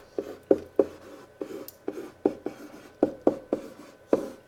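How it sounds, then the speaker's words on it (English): Pen writing ordered pairs on paper, close up: quick scratchy strokes and taps in an irregular rhythm over a few seconds, with no talking. "I'm going to write them."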